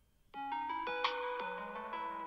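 A phone ringing unanswered, a repeating melodic ringtone with bright tonal notes starting after a short quiet moment and continuing steadily, fairly close, with no talk.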